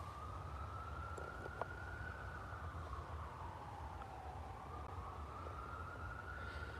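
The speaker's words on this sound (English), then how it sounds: "Yeah, that's police in the background." A police siren wails in the distance on a Boston street, one continuous wavering tone rising and falling over steady low traffic rumble.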